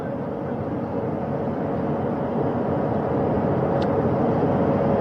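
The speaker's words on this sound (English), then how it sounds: "That helicopter will now hover just a distance away" Helicopter hovering a short distance off during a crew recovery at sea, a steady broadband rotor and engine drone with a constant tonal hum, continuous and fairly loud, no voices.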